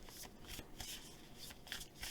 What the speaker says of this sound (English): Get these shuffled really well and see what comes up